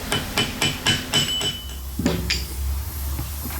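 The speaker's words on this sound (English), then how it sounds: "we're going to tap it with a hammer" A small hammer taps a bolt on a KTM 300 motor during a teardown, six quick sharp metallic knocks close by, then a couple of duller clunks and a low hum.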